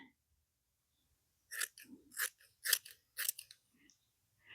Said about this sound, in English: Then I need my scissors. I'm going to cut this.